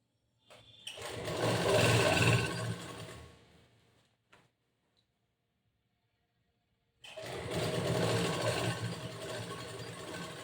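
A sewing machine stitches blouse fabric in two bursts of rapid, steady mechanical whirring and clatter, close and loud, with a few seconds of silence between them.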